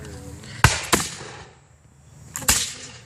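Muskets go off during a Revolutionary War reenactment homestead raid as a few sharp cracks. Two come close together, then a third after a pause, each fading quickly into the open air with no talk.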